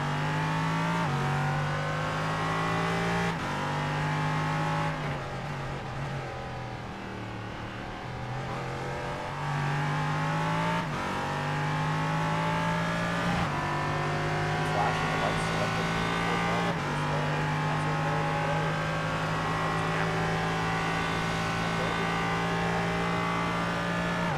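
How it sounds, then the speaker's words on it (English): On-board at Daytona, a GT4 race car drones steadily through traffic, its engine holding high revs with loud sustained harmonic whine, dipping briefly on downshifts and climbing again through the gears, while a commentator talks over it. "They're gonna ride on board as he just pilots himself through the GT4 traffic."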